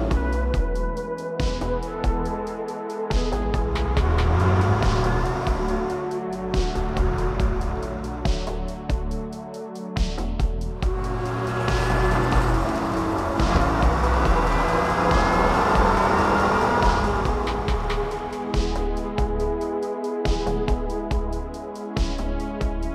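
A 2020 Lotus Evora GT accelerates and shifts through gears, its engine note climbing and falling repeatedly with short gaps between revs. It sounds loud and close, with no talking.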